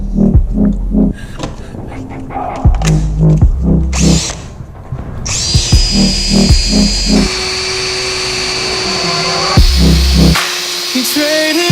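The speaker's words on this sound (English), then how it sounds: "first thing to do this frame is to grind off all the surface rust and paint it." A power tool whines and grinds in stop-start bursts as it strips surface rust from a motorcycle frame, loud and close, with a steady high-pitched drone in the later part.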